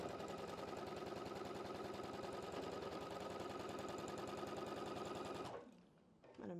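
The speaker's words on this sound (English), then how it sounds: "We're just going to grab the other piece, right sides together, and go ahead and sew that down." A sewing machine stitches quilt block fabric pieces in a fast, even mechanical chatter that runs loud and steady, then stops abruptly near the end, leaving brief faint handling noises.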